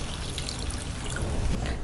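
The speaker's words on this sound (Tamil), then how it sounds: "தண்ணி ஊற்றி மிக்ஸ் பண்ணிக்கலாம்." Water is poured into a thick sambar mixture of cooked moong dal during cooking, giving a steady, close splashing trickle that lasts throughout with no voices.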